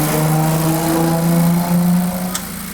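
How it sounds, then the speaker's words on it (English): Honda Civic Si engine idling after being repaired, a steady close droning hum with stable low tones and a slight wavering, briefly joined by a short click near the end. "Car started up, obviously. It's idling just fine now."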